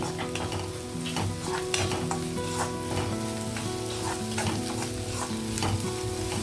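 A spoon stirring salt through a frying cashew and tomato curry, with a bright steady sizzle broken by repeated quick scrapes and taps against the pan, close and with no talking.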